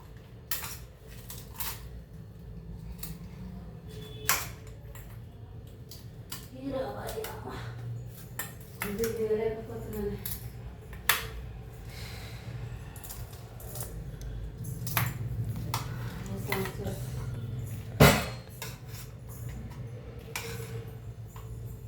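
Snack ingredients with Lays chips are mixed by hand in a bowl, giving scattered clinks and clatters of a utensil against the dish, with a sharp knock near the end, under a person talking.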